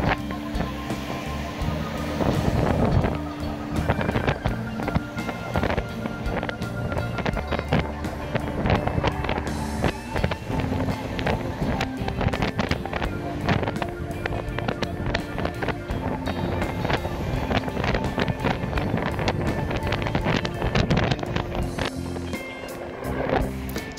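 A 2019 Harley-style City Coco electric scooter with a 60 V 1500 W motor rides at about 46 km/h, steady loud wind roar buffeting the microphone throughout with a low drone underneath.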